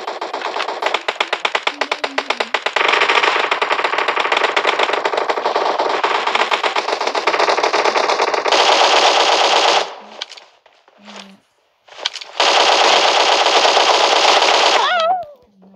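QBZ rifle fire in PUBG Mobile, long sustained automatic bursts of rapid shots, loud and close, broken by a short pause before another burst, with no talk.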